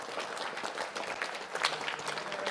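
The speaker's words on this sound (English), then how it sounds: "I request everyone to give a huge round of applause." At a JEE Advanced results celebration, a packed audience claps continuously for top-ranked students, a thick, even wash of applause with a few sharper individual claps rising out of it.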